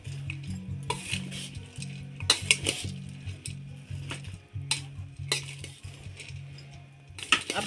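Bhel, the puffed-rice street snack, is tossed with red chilli powder at home, making rhythmic stirring and scraping strokes punctuated by sharp utensil clinks against the bowl, close and fairly loud, with no talking.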